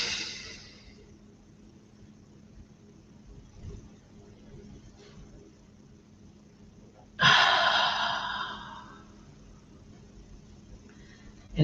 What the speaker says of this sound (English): Breathe in again.